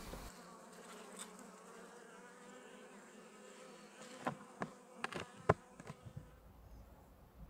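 Honey bees buzz around an opened hive during February feeding with protein patty, a steady low hum with scattered sharper clicks and knocks from hive work near the end.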